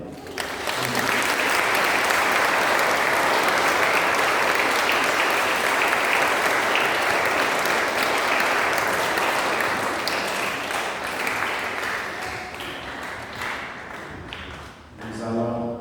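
A congregation at a Mass baptism bursts into sustained applause, loud and even for over ten seconds before tapering off, with a few voices and a spoken line emerging at the end.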